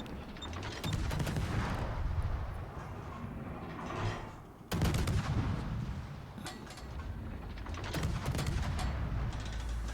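Warship naval guns fire shells at long range in the game World of Warships. Two heavy salvos sound, the first near the start and a sharper one midway, each followed by rolling, rumbling battle noise with no talking.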